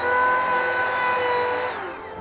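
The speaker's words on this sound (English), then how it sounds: "I cut off a small piece of one of the offcuts, routed it straight, and then used the roundover bit to shape it." A handheld wood router with a roundover bit whines at a steady high pitch as it shapes a small wooden offcut, close and loud, then the motor tone drops as it winds down near the end.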